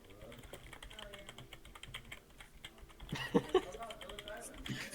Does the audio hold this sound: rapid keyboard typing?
yes